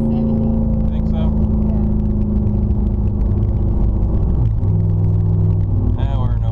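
Car engine with no mufflers at half throttle, a loud close droning rumble with a steady low tone that dips briefly and picks up again, people talking over it.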